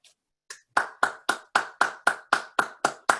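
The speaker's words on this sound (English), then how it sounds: "I know everybody's clapping for you, Ken" Clapping at an annual membership meeting honours an outgoing treasurer: a single nearby pair of hands claps about ten sharp, evenly spaced times at a brisk steady rhythm, with no talk over it.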